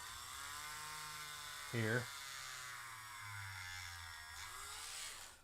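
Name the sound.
drill drilling into a McFarlane action figure's chest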